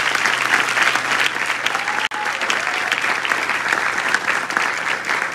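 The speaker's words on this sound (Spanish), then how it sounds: "Así que otro fuerte aplauso para ellos." A crowd at a nursing capping ceremony at Inter Arecibo gives sustained, dense applause, many hands clapping steadily at a fairly loud level with a momentary dip partway through.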